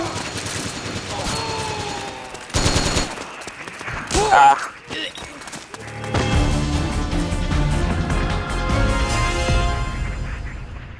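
Gunfire in the online shooter Metal Gear Online, with a dense burst of shots near the middle and heavy clattering and impacts around it, layered over game music and effects.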